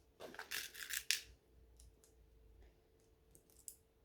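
A rivet cap on a sewing project snaps into place: a quiet sequence of small, sharp clicks and snaps, close and fairly faint, with a couple of light clicks trailing at the end.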